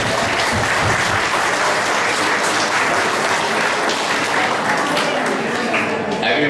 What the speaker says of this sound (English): So can we give a round of applause to the parents?